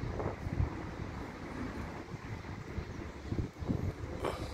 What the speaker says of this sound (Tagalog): ulan, malakas ang hangin,